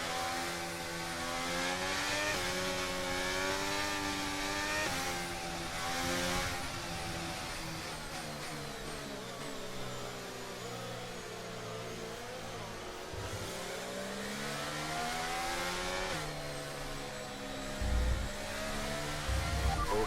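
Formula 1 car engine from the F1 23 racing game, a sustained high-pitched whine holding steady and rising and falling in revs throughout, loud and close with no talking.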